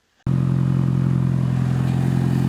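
Mitsubishi Evo 7 idling on its old exhaust, starting abruptly after a brief quiet moment, then holding a loud, steady, even burble with a constant low drone.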